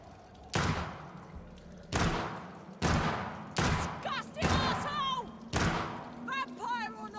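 Gunshots from the video game Vampyr: five sharp, loud shots spaced about a second apart, each with a short decaying tail, with quieter character voices chattering between them.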